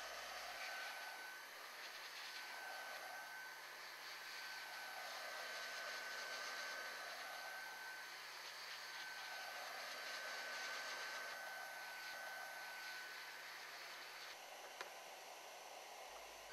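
A heat gun blows hot air evenly around the molded cable-end part of a TE Connectivity System 25 transition joint. It makes a steady, close, continuous whoosh with a thin whine, and no one speaks.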